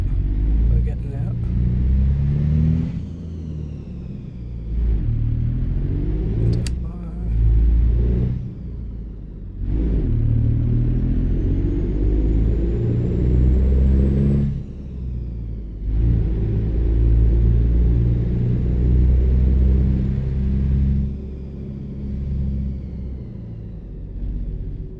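Engine of a Kenworth K100E cabover truck hauling a trailer in American Truck Simulator, a deep rumbling diesel that rises in revs in long pulls broken by brief gear-change dips, with someone talking over it.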